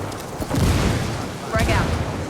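Frag grenade blasts in the Ghost Recon video game: two heavy booms land about a second apart, the second with a sharp crack and rattling debris, loud and close amid ongoing game noise.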